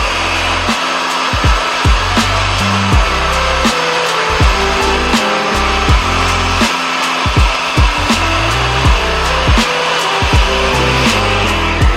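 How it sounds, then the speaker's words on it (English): A hairdryer blows steadily and close while restoring volume to short hair, with its pitch dropping and returning repeatedly as airflow is interrupted and the dryer is moved. "just going to go back in with a hairdryer just to give it that volume again"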